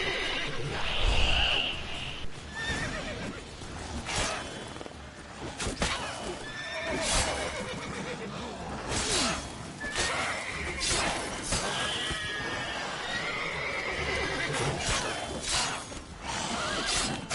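A horse in the video game The Witcher 3 neighs repeatedly and its hooves clip-clop, mixed with loud crashes and sharp impact sounds from combat throughout.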